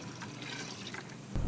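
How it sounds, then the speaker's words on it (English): Water runs steadily from a hose or tap into buckets outdoors in a garden, a soft continuous splashing fill at close range, with a louder gush near the end. "Now we just need to fill these guys up halfway with water."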